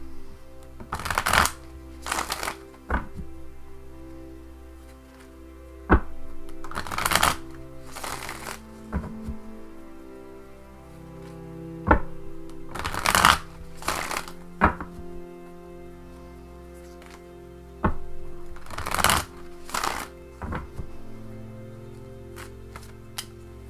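Druidcraft tarot cards being shuffled by hand in repeated bursts of riffling and slapping, each lasting a second or two and separated by brief pauses, close and fairly loud with a steady low background hum.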